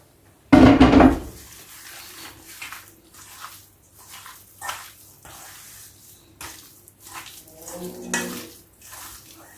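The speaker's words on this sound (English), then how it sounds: "I'll go ahead and pour in my beef" Beef poured into a cooking pot for a one-pot cold-day stew, a loud wet splash and slosh at the start followed by quieter clinks, drips and stirring sounds.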